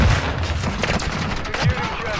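Rapid gunfire and explosions in the chaotic Shipment map of a shooter video game, including light machine gun fire, as a dense, continuous barrage with a voice talking over it.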